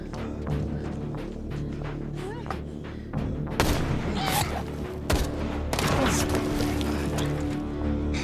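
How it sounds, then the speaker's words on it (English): Gunfire crackles in a sustained fusillade with booming reports, several sharp bursts standing out over a continuous noisy background, with faint voices mixed in. "Who the hell is shooting at us?"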